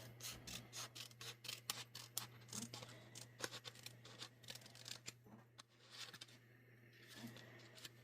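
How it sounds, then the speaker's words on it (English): Small scissors cutting paper shapes, a quiet rapid series of close snips and rustles in irregular bursts over a faint steady hum. "I'll use these smaller scissors when I go back and try to cut closer in"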